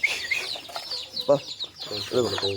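Country chickens cluck in short, choppy bursts at close range, mixed with brief higher squawks.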